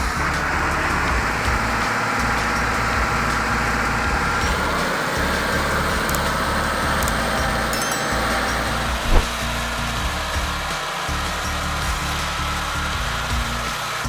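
A 130-horsepower MTZ 1221.2 tractor stuck deep in thick mud drones with a steady, loud engine roar that holds throughout, with one brief knock partway through.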